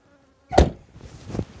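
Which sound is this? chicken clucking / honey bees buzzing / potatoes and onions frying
honey bees buzzing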